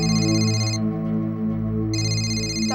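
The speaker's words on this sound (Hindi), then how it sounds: "टप्पू प्लीज फोन उठाओ यार।" A telephone rings steadily in a home, its electronic ringtone tones repeating at a moderate level with a brief dip in the upper tones mid-clip before resuming, with no talking over it.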